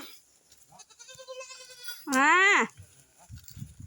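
Young goat kids bleat on a farm: a thin wavering cry, then a louder, strained bleat at close range. Soft rustling and faint farmyard noise sit around them.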